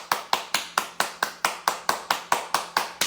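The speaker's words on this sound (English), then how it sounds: "Everybody clap your hands." Hands clap in a steady, even rhythm, about four claps a second, close and sharp, with nothing else heard between the claps.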